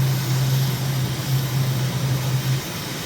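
Airliner jet engines roar steadily during the climb after takeoff in Microsoft Flight Simulator, a broad continuous rushing drone with a low hum underneath, no voices.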